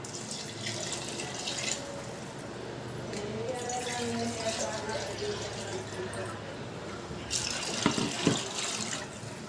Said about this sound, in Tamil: இந்த செம்பால் ஒரு 2 செம்பு தண்ணி ஊற்றிக்கலாம்